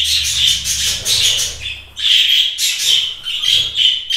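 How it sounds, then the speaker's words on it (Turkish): Several pet birds in an indoor breeding room chirp and squawk loudly and shrilly in dense, overlapping bursts close to the microphone. "Oo, bayağı da yüksek tonda ötüyorlar."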